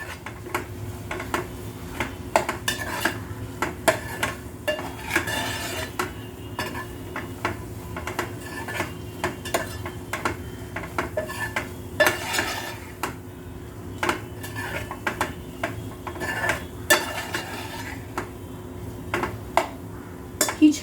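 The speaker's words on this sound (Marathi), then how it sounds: "ही छान अशी आपण मिसळ फोडणीमध्ये मटकी मिसळून घेतलेली आहे" Matki sprouts stirred into hot tempering in a pan for misal, with a continuous run of metal spoon scrapes, clinks and taps against the pan over a faint sizzle.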